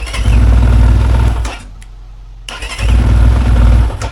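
A moped engine fitted with a PWK 34 carburetor fires up and runs loudly at close range, dips into a brief quiet lull, then roars back to a strong steady rumble.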